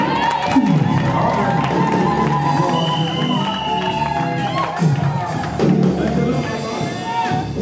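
A wedding congregation at a religious ceremony cheers and acclaims Jesus, a loud, lively crowd of shouts and cheers with children's voices and brief clapping-like taps throughout.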